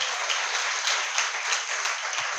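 A church congregation claps together in a dense, steady burst of applause that fills the hall for a couple of seconds.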